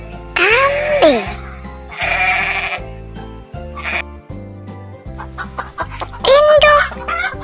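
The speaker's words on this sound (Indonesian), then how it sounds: "Kambing." A goat bleats several times in wavering, quavering calls, near and loud, set over a steady rhythmic music bed with some clucking-like sounds between.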